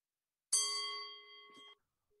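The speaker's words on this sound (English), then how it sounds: "every about 2 minutes, I will make use of a bell" A meditation bell struck once, giving a clear, bright metallic ring that sustains and slowly fades for over a second before being damped, with a faint lingering tone afterward and no talk.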